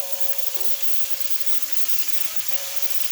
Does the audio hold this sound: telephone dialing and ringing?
no